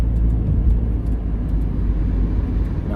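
Low, steady rumble of tires on the road heard from inside a moving car, constant and droning with no talking.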